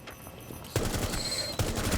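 Bursts of automatic gunfire from a Rainbow Six Siege match: a short quiet lead-in, then loud rapid volleys starting and stopping, close and dense, with no talking.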